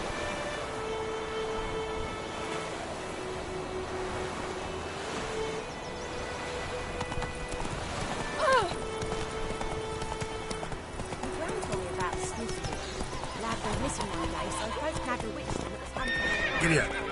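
A horse in The Witcher 3 trots with steady clip-clop hoofbeats and lets out a neigh partway through. A rider's voice speaks over the hooves, and faint ambient game sounds sit in the background.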